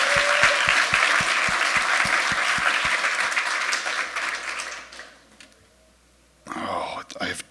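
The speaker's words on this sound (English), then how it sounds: "I wonder if we could just give a round of applause for everyone that has helped organize and run SuperCon this year." Audience at the Hackaday SuperCon conference applauding the event organizers, a dense burst of crowd clapping that fades out around the midpoint, followed by near silence and then someone speaking close to the microphone.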